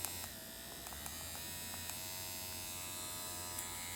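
A rotary tattoo pen machine hums in a steady, even buzz at moderate level, run hard while shading, with faint small clicks over it and no voices.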